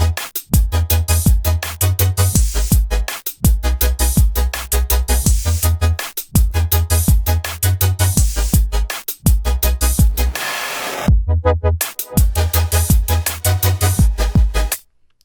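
A future bass wobble synth patch built in Logic Pro's Alchemy pulses in loud, rhythmic phrases of deep wobbling bass chords, with short gaps between bars and a brief filtered break near the end.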